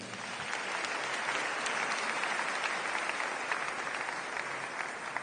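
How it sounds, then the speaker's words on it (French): A church congregation claps together in sustained, dense applause, steady and fairly distant, with a faint murmur of voices beneath. "Acclamons le Seigneur."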